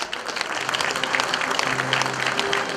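An audience claps together in a steady, dense round of applause, loud and close, sustained for the whole span with a faint hum underneath.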